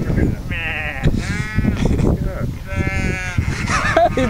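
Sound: person imitating sheep bleating

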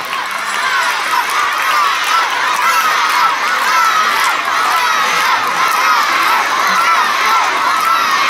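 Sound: school sports day crowd of children cheering

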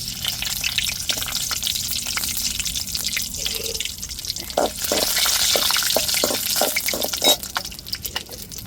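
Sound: whole spices such as cinnamon frying in a pan

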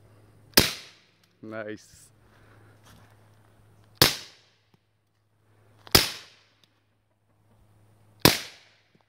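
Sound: suppressed Springfield XD 9mm pistol shots with Guardian 9

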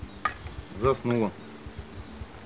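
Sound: honeybees buzzing

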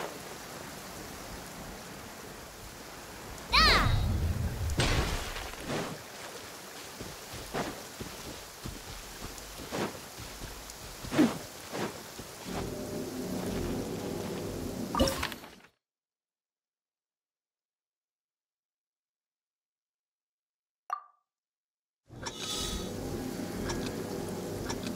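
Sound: rain in video game Genshin Impact

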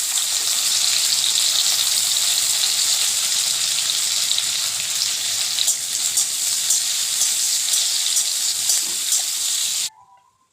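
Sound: cashews and raisins frying in ghee

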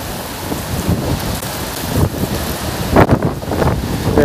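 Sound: thunder and rain during Storm Leslie in Aveiro

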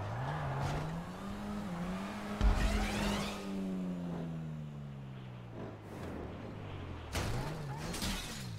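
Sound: car engine revving in a video game

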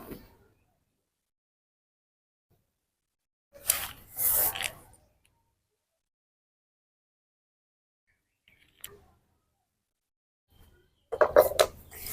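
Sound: cutting fried rotis down the middle

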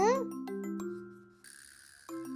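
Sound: doorbell ringing

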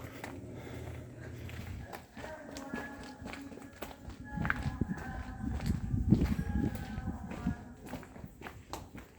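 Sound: running footsteps

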